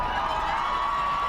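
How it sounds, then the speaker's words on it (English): Loud, continuous crowd roar filling the stands at a cold-night high school playoff football game between Assumption and Pleasant Valley in Davenport, Iowa, a dense wash of voices with no single standout shout. "The crowd is loud."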